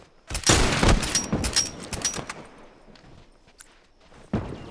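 Rapid sniper rifle and gunfire shots crack out in a tense firefight in The Last of Us, a dense burst of sharp reports early on, then scattered shots and a final loud crack near the end.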